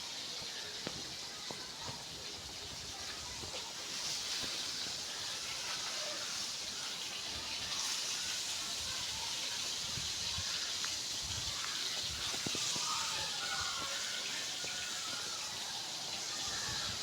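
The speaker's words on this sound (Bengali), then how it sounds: "ধীরে ধীরে বৃষ্টি পড়তেছে আর এদিকে বাতাস।" Light rain falls with gusting wind outdoors near a home cooking spot, making a steady soft hiss and rustle throughout with no talking.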